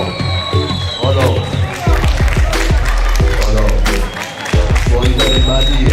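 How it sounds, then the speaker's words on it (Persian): A boxing crowd claps and cheers loudly around the ring, dense applause mixed with shouts and thumping low rhythms, continuous through the stretch with a brief dip near the end. "از همه هواداران آقای عزت الله عیساخیل دعوت میکنم که تشویقش بکنم به خاطر روی رینگ"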